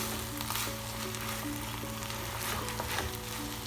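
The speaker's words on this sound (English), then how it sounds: "And then I'm adding in the carrots. Okay, give that a mix." Carrots frying in a pan for vegetable rice pilav, a steady loud sizzle with occasional stirring scrapes and a faint hum underneath, no speech.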